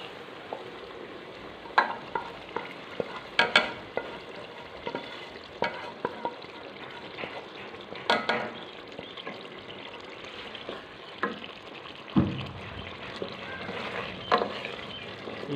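Ginger and garlic frying for chana dal give a soft, quiet sizzle, broken by occasional spoon clinks and stirring knocks.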